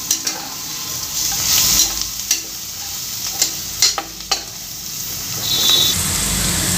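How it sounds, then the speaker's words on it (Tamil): Ginger garlic paste sautéing in a pan for fish biryani: a loud, close hiss of frying broken by several crisp spatula scrapes and taps against the pan. "போகிற வரைக்கும் நல்லா வதக்கி விட்டுக்கோங்க"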